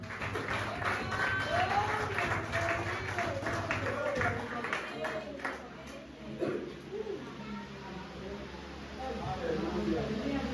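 A church congregation applauding in a dense, steady patter while a man preaches loudly over it; the clapping eases toward the middle and swells again near the end.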